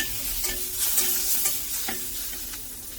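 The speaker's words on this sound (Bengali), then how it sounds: "লো ফ্লেমে কয়েক সেকেন্ড ভেজে নেব।" Curry leaves fry in oil over a low flame for a rui fish sour curry, a soft steady sizzle broken by several sharp crackles and light stirring taps, heard up close without speech.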